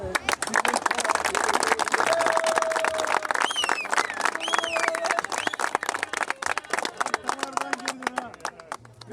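An audience applauds continuously with dense, steady clapping at a lively event, mixed with voices and whistle-like tones throughout.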